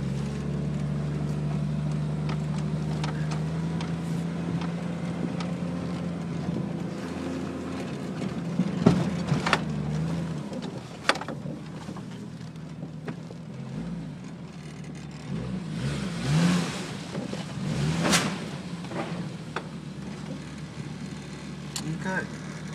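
Engine of a 1992 Jeep Cherokee 4x4 droning steadily while driving on a slippery surface, with a couple of louder surges as it revs and spins, heard from inside the vehicle alongside occasional voices.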